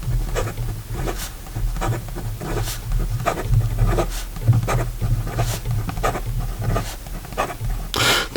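Fast strokes of an Online Campus fountain pen scratching across paper, a steady stream of quick rasping scribbles with brief pauses between words, close and fairly soft over a low background hum.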